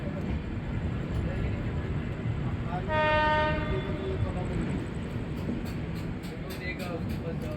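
The Lichchhavi Express, an Indian passenger train, rumbling along the line near Kanpur Central with a steady clatter and a loud horn blast midway, heard amid ongoing train noise.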